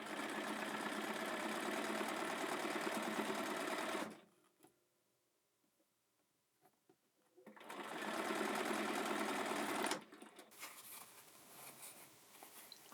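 A sewing machine stitches a quilt block seam in two close, steady runs of rapid mechanical whirring, with a quiet pause and faint handling noises between them.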